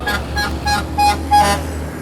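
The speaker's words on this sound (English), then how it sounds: "Heck yeah, that's a horn honk" A car horn toots in several short repeated blasts over steady traffic rumble, fairly close, with no talking.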